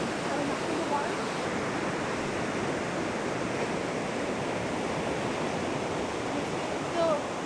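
Ocean surf at Pfeiffer Beach, California, makes a constant broadband roar of breaking waves and wash, steady and fairly loud throughout, with no clear voices over it.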